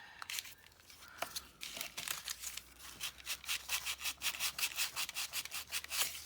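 Sandpaper of 120 grit rubs back and forth across a wooden tag with quick, rhythmic scratchy strokes that grow steadier and more regular, heard up close with no talking.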